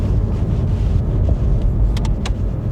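A Honda car drives along, its cabin filled with a steady low road and engine rumble and faint wind noise, with no talking.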